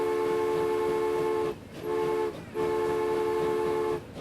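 Steady train horn blasts from a train in the video game Transport Fever, sounding in three long toots broken by short gaps, loud and close with no talking.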